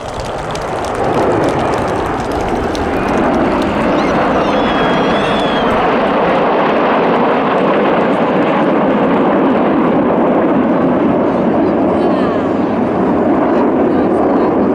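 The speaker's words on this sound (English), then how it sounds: "During that manoeuvre, the aircraft fly with their air brakes out." Red Arrows RAF jets fly a display with air brakes out, a loud sustained roar with broadband noise that holds strong throughout, the sound of nearby aircraft at an outdoor air show.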